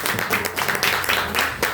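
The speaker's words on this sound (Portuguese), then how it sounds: "Quem pode aplaudir o nome do Senhor" Church congregation clapping together in a quick, even rhythm for nearly two seconds, close and fairly loud, with no voices over it.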